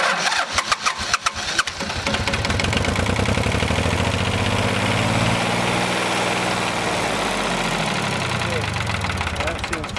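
A John Deere tractor's diesel engine cranks in a rapid stutter for under two seconds, then catches and runs loud and steady close by, its idle drifting and settling while the fuel system is being bled.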